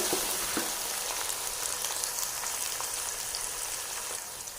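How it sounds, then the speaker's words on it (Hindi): Garlic, ginger and green chili paste fries in a pan with a dense, even sizzle like rain on a surface, steady and close throughout, with a few faint ticks and no voices. "2 चम्मच इसमें डालेंगे लहसुन, अदरक और सब्ज़ मिर्च का पेस्ट। 1 मिनट तक अच्छे से भूनेंगे।"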